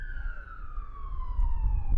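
Emergency vehicle sirens wail steadily in the distance near a ballpark during a night baseball game, a sustained tone sliding slowly downward over low rumbling background noise.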